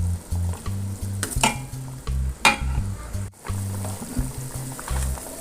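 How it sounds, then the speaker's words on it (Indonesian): Spicy Padang-style tofu sauce bubbles and sizzles in a pan, with crackling bursts and a few sharp stirring clatters, close up over soft background music. "Kita masak sampai mendidih seperti ini Bunda."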